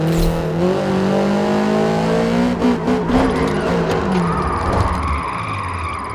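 A Toyota GR86 drifting along a touge mountain road in Forza Horizon, its engine revving in steady rising and falling pitch sweeps with tire squeal and mechanical whine, loud and continuous.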